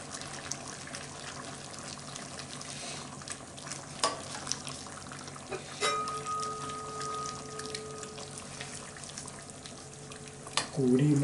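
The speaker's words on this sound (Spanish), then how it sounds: "Agregamos el caldo." Broth poured from a ladle into a cooking pot for osso buco empanadas, a soft continuous trickle and liquid pour with light sizzling underneath, close but quiet, ending with a brief voice.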